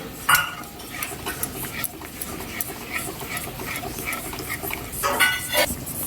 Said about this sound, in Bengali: দইটা দেওয়ার পরে আস্তে আস্তে আস্তে আস্তে করে কষে নিতে হবে।